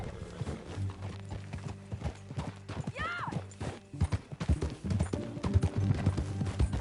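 Horse hooves clip-clop steadily in Red Dead Redemption 2, a continuous rhythmic trot with a brief neigh partway through, mixed with game ambience and a low musical drone.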